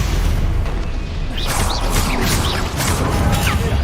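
Confringo blasting spell explosions in the video game Hogwarts Legacy, a burst of booming blasts and crackling impacts under battle effects, with whooshing tones sweeping through after the first second.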